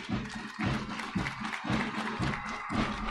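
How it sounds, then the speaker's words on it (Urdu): Crowd applause at the opening ceremony of the National Games in Quetta, a steady, moderately distant clatter of many hands clapping with rhythmic pulses. "تالیاں بجا کر ہماری بچیوں کو داد دیجئے"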